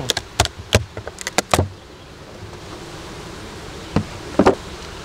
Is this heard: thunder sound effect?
no